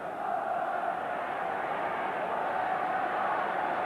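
Steady roar of a football stadium crowd of about 40,000 at a 1987-88 League Cup quarter-final between Everton and Manchester City, a continuous dense murmur with no distinct peaks.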